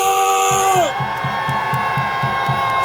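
At an outdoor political rally in Park Chung-hee Plaza by Dongdaegu Station, people in their twenties erupt in a big sustained crowd cheer. It follows a fading shouted call, with a regular low beat thudding beneath the roar.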